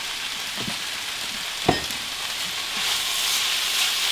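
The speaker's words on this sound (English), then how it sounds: "Give that a little stir." Hamburger meat for sloppy joes frying in a pan, giving off a steady hiss. A spoon stirs it with a few soft scrapes and one sharp knock, close by and with no talking.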